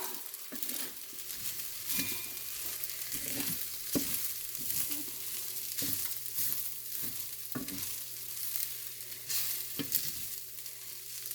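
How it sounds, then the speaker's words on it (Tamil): Egg fried rice sizzles steadily in a hot pan at a soft level as soy sauce goes in, punctuated by repeated scraping stirs and light clinks, with no talking. "Soya sauce விடுறேன்டா."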